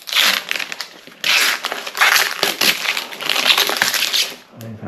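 Adhesive seal peeled back on a 3D printer enclosure kit for the AD5X, close-up crinkling and tearing in several loud bursts separated by short pauses.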